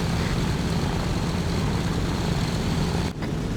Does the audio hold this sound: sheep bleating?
no